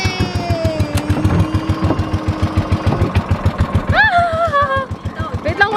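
A boat's small engine chugs in a steady, rapid knocking rhythm after being started, loud and close, while people talk and exclaim over it.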